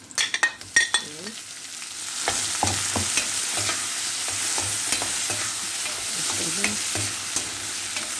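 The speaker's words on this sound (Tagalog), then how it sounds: "ilagay ko na si kamatis." Tomato added to bitter melon stir-frying in a pan, with a few sharp clatters at the start and then a steady close sizzle broken by repeated scraping strokes of the spatula, no talking.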